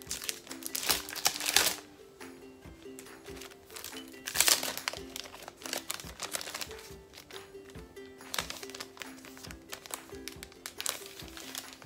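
Packaging around a scrapbooking planner item being opened by hand: close, continuous plastic crinkling and crumpling with occasional taps and tearing, moderately quiet and with no talk.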